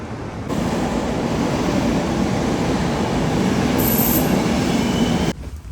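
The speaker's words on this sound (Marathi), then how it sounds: "समोर एक ट्रेन थांबली." A heavy, steady rumble of a train rolling close by as it arrives at a station and stops, with a faint wheel squeal near the end before the noise drops away.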